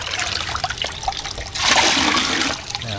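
Strong water flow gushing into a trough for watering farm animals, a steady broadband rush that swells louder and fuller about halfway through, with no talk over it.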